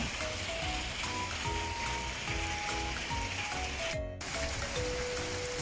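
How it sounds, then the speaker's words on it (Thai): Steady, dense hiss of rain pouring down, a constant wash of noise with faint tones drifting through it. "ดูจาก ตัวน้ำฝนที่ตกนะคะ"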